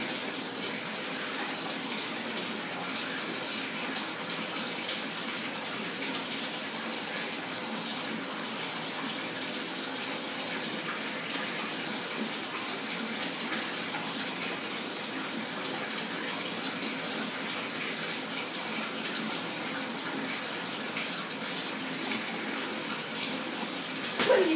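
Steady broadband rush of tap water pouring into a bathtub at dog bath time, continuous and even throughout with no voices.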